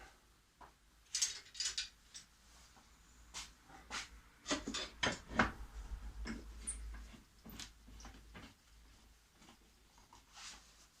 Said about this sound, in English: And then I'll simply clamp it.